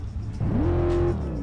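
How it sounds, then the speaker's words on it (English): Hummer H3 in the racing video game Test Drive Unlimited 2 revs once, its engine note climbing steadily then falling back to idle, loud and close with no talking. "Let's hear this Hummer just rev a little bit."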